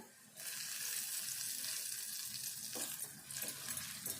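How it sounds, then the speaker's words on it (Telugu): Freshly pounded ginger garlic paste hits a hot pan of egg curry and starts to sizzle, giving a steady, close frying hiss that begins abruptly and continues throughout, with no talking. "ఇప్పుడు ఫ్రెష్గా దంచుకున్న అల్లము ఎల్లిపాయ పేస్ట్ వేసుకుందాము"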